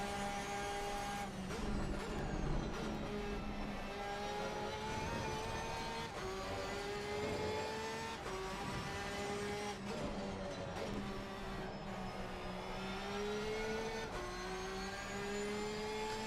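A race car engine in a sim racing game whines steadily and rises and falls through gear changes for the whole stretch, heard fairly faint and far off with no talk over it.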